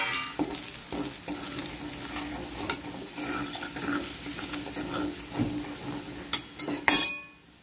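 Spices and chili frying in a pan for a potato curry, a soft, steady sizzle with occasional clinks of a utensil against the pan, heard alone without talk.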